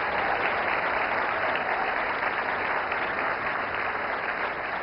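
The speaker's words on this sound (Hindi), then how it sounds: "जोरदार तालियां।" Steady, dense applause fills the hall at the 70th National Film Awards ceremony as Mani Ratnam receives his award, an even, sustained wash of clapping from a large audience.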